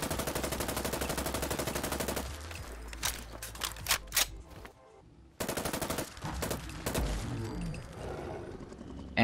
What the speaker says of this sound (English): using the semi-automatic weapon with the highest upgraded receiver and ammo type